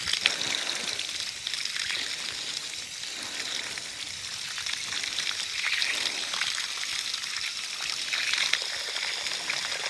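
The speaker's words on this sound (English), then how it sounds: "So I'll run the hose down here." Water hisses and splashes steadily from a garden hose while avocado trees are being watered into clay soil, a continuous close spray with no talk.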